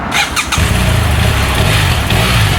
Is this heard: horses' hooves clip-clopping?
no